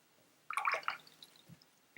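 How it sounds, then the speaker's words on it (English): A watercolor paintbrush is swished briefly in a water cup, a short burst of soft splashing and drips that fades after about half a second, quiet and close. "I'm gonna rinse out my brush"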